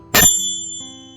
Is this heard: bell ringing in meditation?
yes